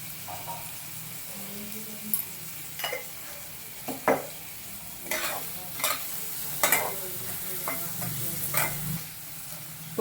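Chopped tomatoes fry in a pan while being stirred. A steady sizzle runs throughout, broken by repeated scraping and clinking strokes of a spoon against the pan at irregular intervals, close up and with no voices.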